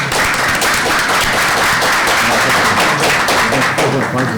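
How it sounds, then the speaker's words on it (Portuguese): Steady, loud applause from an audience at a labor law conference, dense clapping filling the whole stretch without pause. "uma salva de palmas, por favor"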